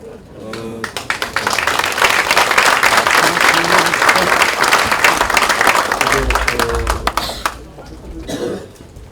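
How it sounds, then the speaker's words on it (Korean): Applause from assembly members approving a motion at a party caucus meeting, a dense burst of clapping that swells for several seconds then fades, with coughs and a speaking voice at the edges. "박수로 추진되신 거라고 생각되겠습니다"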